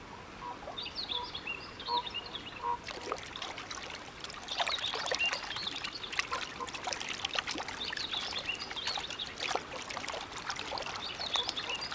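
A salmon river or stream in Kamchatka trickles and babbles steadily at moderate distance, with small birds chirping faintly over the flowing water.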